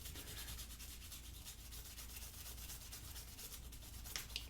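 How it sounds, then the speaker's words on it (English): Steady brush scrubbing inside the frame of a Ruger Mark IV .22 pistol near the ejector, a continuous close, quiet rasping with no pauses and no voices. "I'm just going to scrub inside here. Scrub by the ejector."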